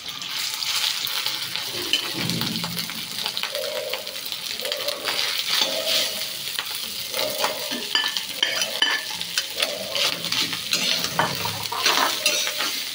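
Andi rice frying and being stirred in hot oil mixed with ghee, a steady sizzle with repeated scraping of a spoon against the pan, close and continuous with no voices.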